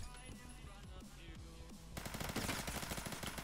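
A sudden burst of rapid automatic gunfire in a shooter video game, loud and fast-paced, cutting in after a stretch of quieter game sounds.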